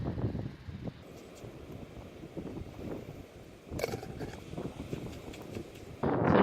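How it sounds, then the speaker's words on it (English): Steady outdoor wind buffeting the microphone while sampling sediment for microplastics, a low rumbling roar with gusts that swell louder near the end. "it's a bit windy out here"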